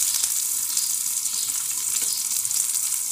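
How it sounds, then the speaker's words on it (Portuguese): Sliced calabresa sausage fries in a pan with a constant, loud, bright sizzle and crackle, steady throughout with no talking. "E a calabresa já está fritadinha,"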